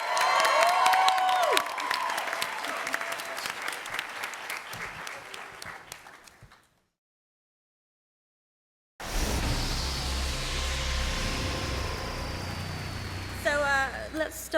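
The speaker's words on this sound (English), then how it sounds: "Please give a round of applause for executive producer Craig Silverstein" Loud applause and cheering from a Comic-Con 2012 Nikita panel audience for executive producer Craig Silverstein, a dense clapping roar that fades, breaks off into silence, then returns.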